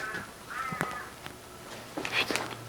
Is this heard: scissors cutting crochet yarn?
no